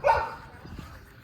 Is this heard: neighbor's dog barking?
yes